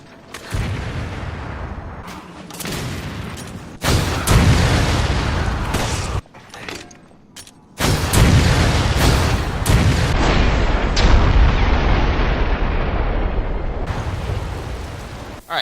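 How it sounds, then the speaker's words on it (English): A single-use rocket launcher in Resident Evil 5 fires high-explosive rocket-propelled grenades, producing loud, booming blasts. Heavy rumbling explosions come in several separate bursts, some long and sustained, broken by short quiet gaps and sharp cracks. "Weapon that launches a high explosive rocket propelled grenade, designed to be disposed of after a single use"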